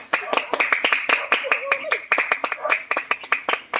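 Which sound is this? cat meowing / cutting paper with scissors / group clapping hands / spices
group clapping hands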